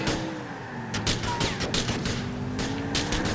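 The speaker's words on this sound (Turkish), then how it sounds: "Oğlum biri sıkıyor arkamdan" Bursts of automatic gunfire in a GTA 4 multiplayer match, crackling rapid shots layered over continuous game noise and ambience, fairly loud and dense throughout.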